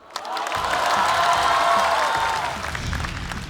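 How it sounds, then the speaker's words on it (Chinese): Applause and cheering from a stand-up comedy audience swell quickly and hold for a few seconds before tapering off, a dense, moderately loud crowd sound with no speech. "掌声有请宋万博。"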